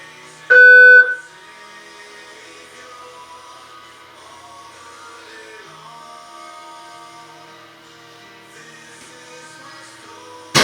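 A single loud electronic shot-timer buzzer sounds for about half a second near the start at an indoor shooting range, then quiet room ambience follows.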